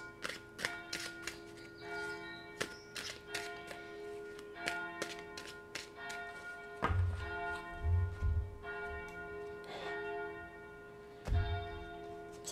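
Church bell ringing shortly before noon, sounding steady repeated strokes with long ringing overtones, moderately distant, mixed with a few low thumps and taps nearby, with no speech.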